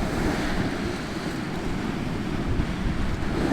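Churned-up sea surf rolls against the coast at the top of an ebbing tide, a continuous loud rumbling wash mixed with wind buffeting the microphone, with no voices.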